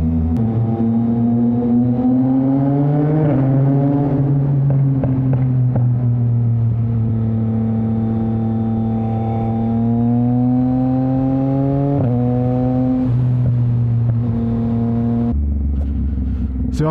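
A modified, illegally loud motorcycle idles with a deep, steady rumble that echoes through a tunnel, holding a constant throaty drone with slight pitch wavers and a brief change near the end.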